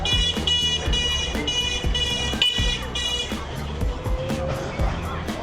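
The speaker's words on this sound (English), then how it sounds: "They clearly don't have the no beeping rule here." Car horns beep repeatedly on a busy city street in Chaozhou, Guangdong, in short tonal blasts over steady traffic noise, with voices chattering nearby.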